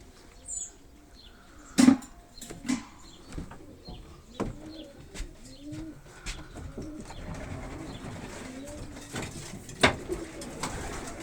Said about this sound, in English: That's the young birds in the aviary there.